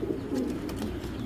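Tiger pigeons, a paired couple, give soft, steady low cooing close up, a continuous murmuring burble with no talking.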